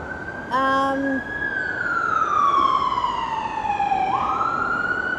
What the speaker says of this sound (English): I'm waiting until the siren passes.